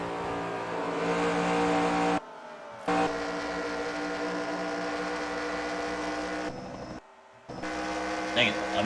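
Onboard race car engines from the NR2003 racing game at Kentucky, loud and sustained with shifting drone, cutting out briefly twice as the view switches between cars.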